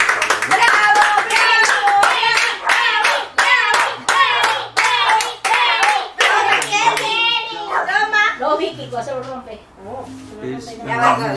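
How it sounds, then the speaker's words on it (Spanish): Sharp, close hand clapping from a small group of children in a classroom, with a rapid rhythm that breaks up as kids talk and chatter over it. "¡Aplauso!"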